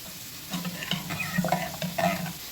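Eggplant pieces fry in a pan with a steady background sizzle, broken by several distinct scraping stirs of a spatula at irregular intervals, heard up close without speech.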